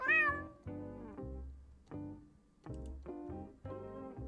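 A cat meows repeatedly in a video game, a series of clear, close, drawn-out meows of varying pitch spaced roughly half a second to a second apart, standing alone with no talk over them.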